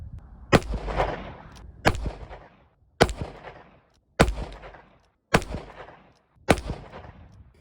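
Six sharp revolver shots from a Federal 38 Special +P+ Hydra-Shok load fired through a 4-inch barrel at an outdoor range, each loud crack followed by a fading echo, spaced about a second apart with no talking.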